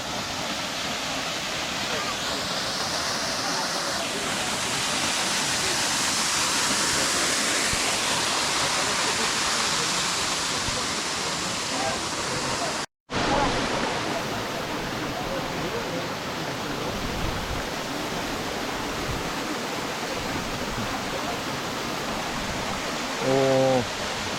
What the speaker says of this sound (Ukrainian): І ось сам водоспад